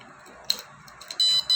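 A smart door lock's buzzer shrieks loudly after an unrecognised card, two sharp high-pitched electronic bursts near the end following faint clicks, close and piercing with no speech.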